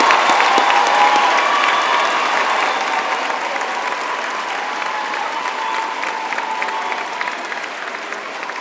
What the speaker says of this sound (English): let us give our graduates a big hand for their hard work and